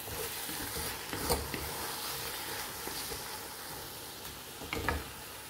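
Bottle gourd bharta cooking in oil in a pan while being stirred continuously, a steady low sizzle with soft scraping strokes of the spoon, quiet and close throughout.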